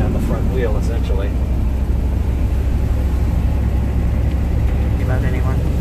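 A 1995 GMC box truck with 183,000 miles on a test drive through a country town gives a continuous low engine rumble, with voices talking over it.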